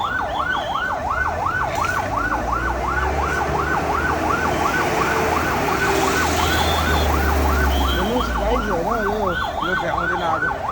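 A fire water tanker's siren wails at a large blaze near Pahelo Pul in Nayabasti, Kathmandu, rising and falling in fast, steady cycles. It is loud and fairly close over engine rumble and crowd noise.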